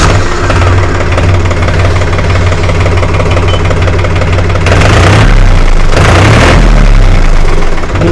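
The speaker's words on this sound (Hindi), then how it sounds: "चलिए ट्रैक्टर को स्टार्ट करके आपको इसका आवाज़ सुना देते हैं" A New Holland 47 hp 4x4 tractor diesel engine running close by, a loud, steady knocking idle with a couple of brief surges in revs partway through, no talking.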